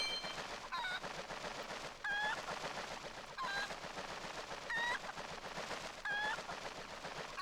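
Chicken clucks in The Legend of Zelda: Twilight Princess HD repeat at a steady rhythm, about every second, over a faint, busy background.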